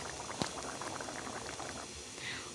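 Mocha dalna, a Bengali banana flower curry, bubbling as it thickens in a pan, a steady close simmer of popping bubbles with one sharper tap near the start.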